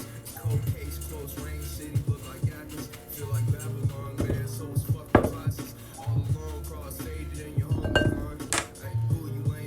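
A quick stir in a bowl during brunch cooking gives scattered clinks and taps of a utensil against the dish, with soft scraping in between, close and moderately loud.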